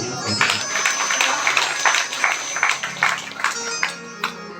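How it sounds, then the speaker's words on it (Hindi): Devotees at a Shiv Mahapuran katha applaud with bursts of clapping that rise and fall, and a voice can be heard over the clapping. "जो महान भाव इस कथा में दान दे रहे हैं उनके लिए जोरदार तालियां"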